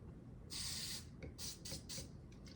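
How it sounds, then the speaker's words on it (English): Cleaner is sprayed onto Zastava M70 AK47 rifle parts: one long hissing spray, then several short bursts, near and fairly quiet over a low background hum. "Grab our cleanser and just give that a good soak. Just spray the whole thing."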